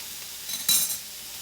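A ham steak sears in a pan with a faint steady sizzle, and a brief burst of louder hissing and stirring comes midway, quiet and close.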